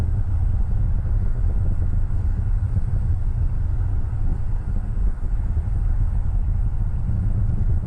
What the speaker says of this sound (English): We've heard the throttle down in preparation for stage separation.